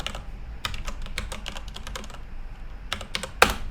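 Username, an email address, typed on a computer keyboard in a terminal, with a steady run of crisp close keystrokes, a short pause, then a few more and a final loud tap.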